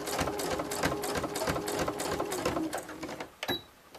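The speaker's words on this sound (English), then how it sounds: "I'm going to go back up along this line of stitching on the outer edge." A sewing machine stitches up the outer edge of a tote bag in a fast, close rattle of needle strokes that slows and stops near the end.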